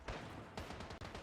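Rapid gunfire from hostile shooters in the video game Once Human, a dense burst of repeated shots over about a second with a brief pause near the end, loud and close, with no talking.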